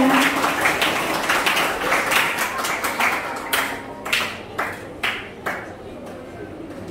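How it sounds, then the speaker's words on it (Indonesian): Audience applause at an elementary school event: a dense burst of many hands clapping at once, which thins after a few seconds into scattered individual claps that fade away over a low murmur of voices. "Kita tepuk tangan ya."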